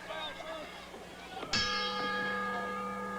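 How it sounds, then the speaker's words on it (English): Ring bell at a professional wrestling match in the Superdome in New Orleans, one sharp clang ringing out with a long sustained tone over faint arena noise. "The bell has sounded, ladies and gentlemen"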